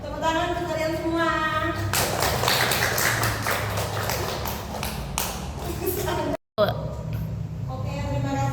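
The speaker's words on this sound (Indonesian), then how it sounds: "Tepuk tangan untuk kalian semua." Classroom applause for students, a burst of many hands clapping in the middle, with a teacher's voice before and after it.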